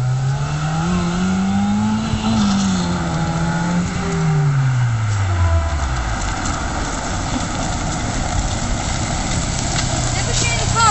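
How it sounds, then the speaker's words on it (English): A 2-litre Zetec engine in a Ford Mondeo track car drones close by, its pitch rising, then falling away, under steady background noise as people talk. "it's a 2-litre Z-Tex. You can hear it like..."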